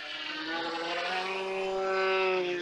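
A GeoBat radio-controlled model aircraft flies with its propeller giving a steady, loud, high-pitched droning buzz that holds an even pitch throughout, with no voices.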